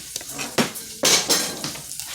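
Diced mirepoix vegetables going into a pan of rendered pork, with a few sharp metallic clanks of a utensil against the pan and a light sizzle between them, close and loud.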